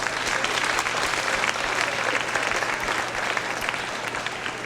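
Sustained, even applause from a crowd at a high school senior awards ceremony fills the whole stretch, a dense wash of clapping with no talk over it.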